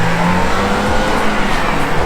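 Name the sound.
car accelerating hard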